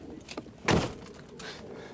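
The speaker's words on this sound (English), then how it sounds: "the door not only opens normally," The door of a crash-tested Smart car shutting with one solid thunk, preceded by a lighter handling click and followed by faint rattles, heard close with no talking.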